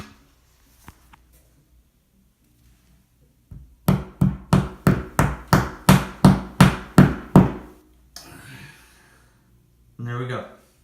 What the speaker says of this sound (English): Maybe a little tap with a hammer.